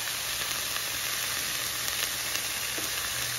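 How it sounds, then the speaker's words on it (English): Squash and onions sauté in butter in a skillet with a steady, dense sizzle and faint stirring ticks, heard close and alone. "We're gonna saute this until the onions and squash are tender."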